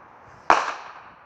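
A single sharp firework blast goes off close by, a loud crack that tails off over about half a second into a hissing decay against a quiet background.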